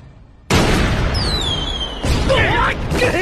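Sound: cannon firing

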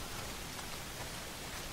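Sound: rain in a video game

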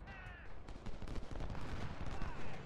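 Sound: musket gunfire in video game Ultimate General: Civil War

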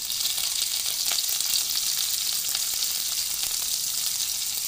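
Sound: onion sizzling in hot mustard oil

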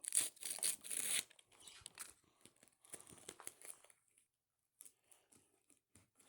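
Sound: opening a plastic collection packet

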